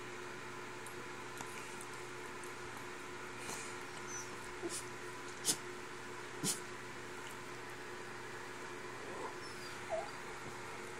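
A black and tan dog plays with a puppy, giving a few faint, scattered whimpers and yips over a quiet room background, with no one talking.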